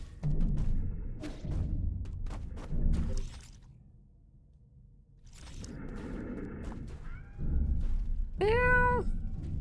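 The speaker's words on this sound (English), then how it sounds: "Meow. Meow." A cat meows several times in the video game Nine Sols, the cries clear and close, with game thumps and whooshes around them and a bright rising chime near the end.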